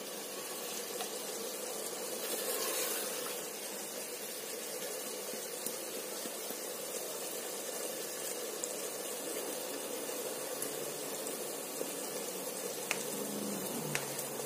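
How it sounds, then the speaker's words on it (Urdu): Green chilies frying in a pan give a steady, close sizzle and crackle that runs without a break, with no voices over it. "یہاں پہ ہم ایڈ کریں گے اس میں اپنی جو گرین چلی تھی ہماری، وہ 2 سے 3 منٹ کے لیے مزید بھونیں گے"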